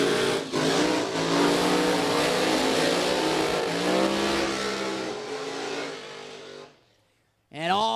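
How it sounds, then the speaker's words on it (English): Drag racing cars, including a Dodge Charger R/T, do smoky burnouts, a loud sustained roar of revving engines and spinning tyres that fades out abruptly, with a commentator's voice returning at the end. "Great couple of smoky burnouts there from Borden and Weish."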